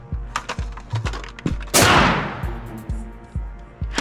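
A Nerf blaster fires once during a blindfolded indoor hide-and-seek Nerf tag game, a sharp burst that trails off, set among repeated soft thumps and knocks from people moving nearby, with no voices.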